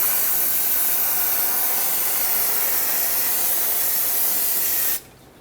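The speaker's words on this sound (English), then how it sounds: "I'm going to spray it down with brake parts cleaner to rinse it all." Brake parts cleaner sprays in one steady, loud, unbroken hiss onto the rear hub of a 2006-2010 Hyundai Sonata, then cuts off abruptly near the end.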